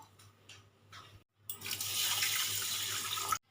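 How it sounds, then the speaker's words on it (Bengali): Water pours into a bowl for sugar syrup in a home kitchen, a close rushing splash lasting about two seconds after a few soft clinks and handling sounds, with no talking. "বাটি মেপে আমি আড়াই বাটি জল দেব"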